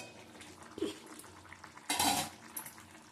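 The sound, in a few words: lid placed on pot of papaya potato curry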